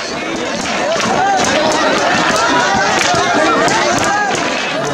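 Dense, loud crowd at the Lathmar Holi festival in Nandgaon, where people run and dodge swinging sticks: continuous babble of many voices and shouting, close and all around, with no pause for the whole stretch.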